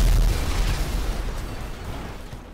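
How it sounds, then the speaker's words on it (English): A loud, booming burst of explosions in Grand Theft Auto V: a heavy rumbling blast that hits at once and then slowly fades into a dense, crackling roar, with no voices over it. "A bouquet of explosions."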